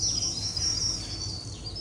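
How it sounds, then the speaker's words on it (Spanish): Alpine choughs and skylarks in a mountain soundscape, heard as a faint, steady wash of high chirping and trilling birdsong with insect-like buzzing, all distant and without voices. "las chovas, las alondras en el cielo"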